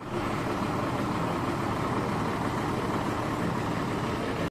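A state transport bus idles at Yedshi bus stand, its steady low engine rumble continuous and fairly close, with no breaks or changes in pitch.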